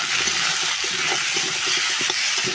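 Turmeric and salt sizzling with spices in a hot pan, a steady bright hiss of frying with soft stirring knocks throughout, close and continuous.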